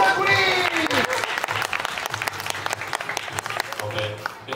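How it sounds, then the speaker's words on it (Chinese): An audience claps during a university magic club's rope trick performance, with a burst of applause that thins into scattered claps while a voice speaks over it. "掌声鼓励"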